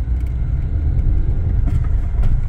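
Steady low engine rumble from a Volkswagen Golf with an 8-valve engine, running close by and fairly loud with slight fluctuations, no voices over it.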